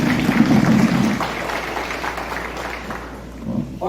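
An audience in a church-style class claps together, strongest at the start, then thinning out toward the end. A few voices call out over the clapping.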